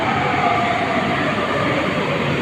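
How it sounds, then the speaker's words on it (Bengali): A train on another line pulls into a station, a loud steady rumble and rail roar that fills the platform without any pause. "এটা আমার ট্রেন নয় এটা আরেক লাইনের ট্রেন"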